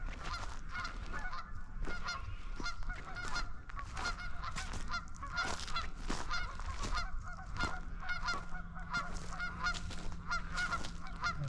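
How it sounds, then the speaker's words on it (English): A flock of geese on a river honks repeatedly in overlapping calls, fairly close, with a constant background wash like flowing water. "there's some geese right there. I see. You can hear them over there."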